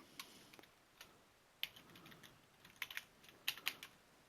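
Typing on a computer keyboard while entering text into a Microsoft Word text box, with sparse, quiet key clicks arriving in irregular clusters and faint room hiss between them, no talking.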